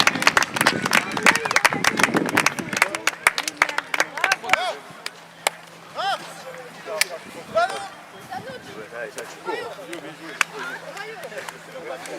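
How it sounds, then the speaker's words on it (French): Spectators at a charity football match at a stadium in La Seyne-sur-Mer clap and applaud, a close, dense burst of clapping that thins into scattered claps, with voices talking through it. "On peut les applaudir s'il vous plaît"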